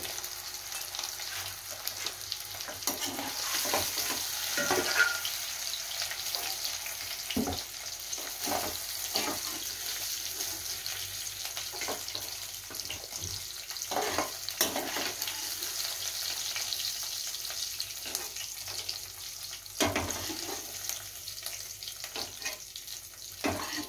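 Potatoes frying in oil for a yogurt potato curry, a soft, fairly quiet sizzle running throughout, punctuated by repeated scrapes and knocks of a utensil against the pan, no voices.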